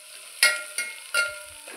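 Onion sautés in ghee in a pan, with three spaced stirring scrapes rising over a quiet, soft sizzle, up close and with no talking.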